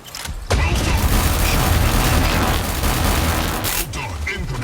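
Incoming gunfire in a video game: a sudden heavy boom followed by a dense, sustained barrage of rumbling blasts and mechanical clatter, loud and close, with a voice speaking over the din.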